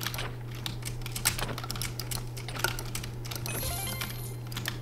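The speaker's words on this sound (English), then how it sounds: "Oh, you're spam clicking, bro." Rapid clicking from a mouse or keyboard during a video game, a dense run of quick sharp clicks throughout, fairly close, over a steady low hum.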